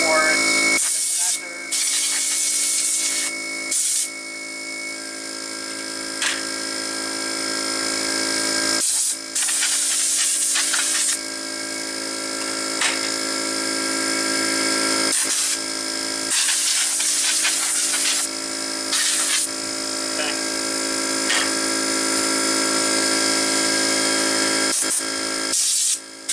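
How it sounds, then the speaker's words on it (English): Compressed air blasts across the circuit boards of an IBM PC 5150 during restoration, in loud sustained hissing bursts separated by brief pauses, close and dominant throughout. "I just usually just blow out all the boards"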